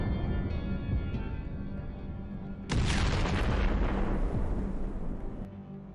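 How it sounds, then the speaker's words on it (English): A military vehicle laden with ammunition explodes after an FPV drone strike, a sudden loud blast breaking over a steady drone hum and rumbling away over a few seconds. "then a large explosion is visible, indicating that the vehicle was full of ammunition."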